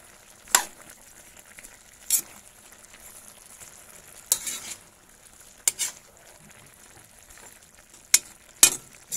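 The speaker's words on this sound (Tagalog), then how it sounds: "Haluin po natin." Malunggay, cassava, tomato and tuna sizzle in a frying pan while a utensil stirs them, giving sharp scraping clatters at irregular intervals over a soft, constant frying hiss.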